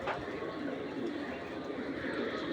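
Red checker pigeons cooing softly amid steady background noise, with a low murmuring coo running through the short stretch and no clear pauses.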